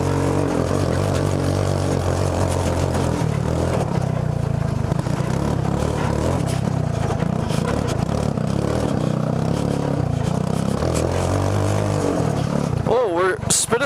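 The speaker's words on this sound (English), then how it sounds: "I'm gonna rip this thing through the woods." Go-kart engine ripping along a tight wooded track: a constant loud, close engine roar with rattling and scraping, under someone talking, and a rising whine at the very end.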